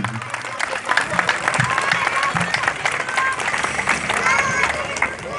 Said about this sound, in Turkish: Büyük bir alkış istiyorum inşallah.